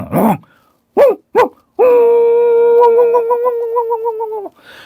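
A dog gives three short, loud barks, then a single long, wavering howl-like yelp that fades out. The sounds are close and stand alone between spoken parts.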